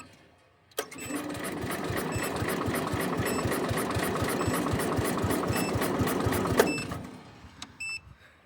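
An old tractor engine cranks with throttle and choke applied, a steady rapid chugging rhythm churning for about six seconds before cutting off, fairly loud and close with no talk.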